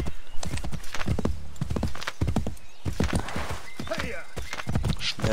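Horse hooves clip-clopping at a gallop with a whinny in Assassin's Creed 3 gameplay, steady rhythmic hoofbeats close and clear while someone talks over them.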